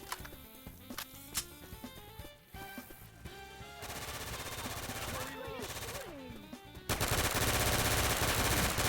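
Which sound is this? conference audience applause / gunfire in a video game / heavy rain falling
gunfire in a video game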